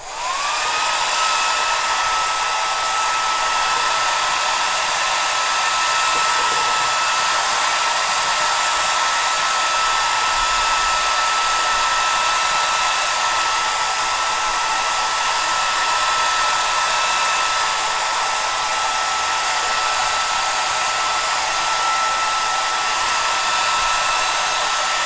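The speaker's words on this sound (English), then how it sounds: "Heat gun." Heat gun blowing steadily to dry watercolor washes, a loud, continuous airy roar that holds unbroken at close range from start to finish with no talking over it.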